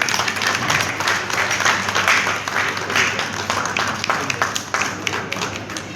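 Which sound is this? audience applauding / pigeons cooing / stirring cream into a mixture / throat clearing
audience applauding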